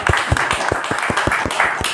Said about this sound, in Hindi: एक बार सबके लिए तालियां हो जाए।